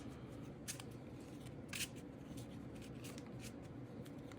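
Game cards for the I, Napoleon board game being shuffled by hand, a quiet series of soft riffling bursts at close range.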